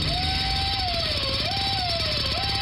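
High whining dental drill in a dentist's office, played as a sound effect in a radio advert; its pitch sustains and dips in short swoops over a low mechanical buzz, loud and close.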